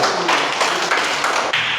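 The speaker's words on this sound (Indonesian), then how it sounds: "Oke, sekali lagi tepuk tangan dulu." A school class applauds after a group presentation in an Indonesian classroom, a dense, steady wash of many hands clapping at close range for about two seconds with no one speaking.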